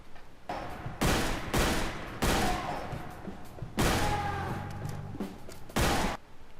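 Margay Special gun fired in a video game: five or six heavy, loud single shots spaced roughly a second apart, each with a brief booming tail and faint mechanical rattle between.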